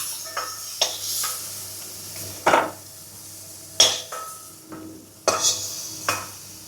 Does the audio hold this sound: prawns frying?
yes